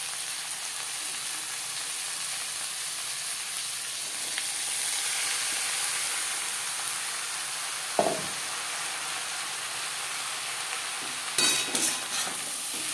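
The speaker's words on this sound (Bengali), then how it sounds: "পেঁয়াজ ও কাঁচা লঙ্কার সাথে থোর বেশ ভালো করে মিক্স করে দেবো।" Banana flower frying over a high flame with onion and green chillies gives a steady, loud sizzle, broken by a scrape of stirring near the middle and a few clattering stirs near the end.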